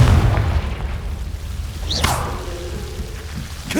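Confringo fire spell in Hogwarts Legacy: a short whooshing cast followed by a booming burst, with rumbling game ambience underneath.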